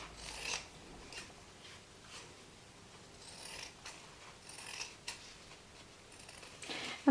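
Scissors snip paper pieces for a cockatoo art project, a series of short, crisp cuts spaced irregularly and heard close up, ending with a louder clack.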